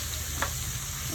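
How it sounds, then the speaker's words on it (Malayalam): Garlic frying in oil left in a pan while chicken chukka is being made, with a short, soft, even sizzle and one faint clink partway through. "ഈ എണ്ണയിൽ തന്നെ നമുക്ക് വെളുത്തുള്ളി ഇട്ട് കൊടുക്കാം."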